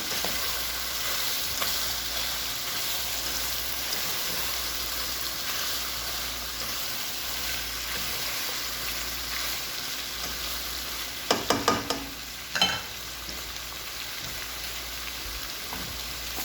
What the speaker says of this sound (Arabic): نقلبهم بقى مع بعض.